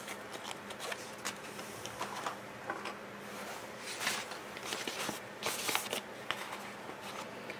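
Lil Sew & Sew LSS202 Tivax budget sewing machine stitching through card stock, a soft, busy patter of needle strokes and small mechanical clicks in uneven bursts at close range, fairly faint and with no talking.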